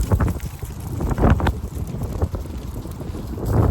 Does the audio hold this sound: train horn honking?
no